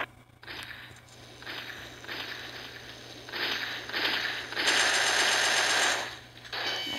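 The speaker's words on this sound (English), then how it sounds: "this is also a good gun. As you can see, it's actually pretty loud." Bursts of rapid gunfire from a video game, the shooting swelling in loud clusters and peaking in a sustained volley near the end, with no talking.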